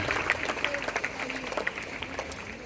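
Steady applause from a crowd at a school prize-giving ceremony, dense overlapping claps with a voice speaking faintly over it.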